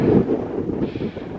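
Strong gusting wind on the open South Downs hilltops buffets the microphone with a low, rumbling roar, steady throughout the short moment.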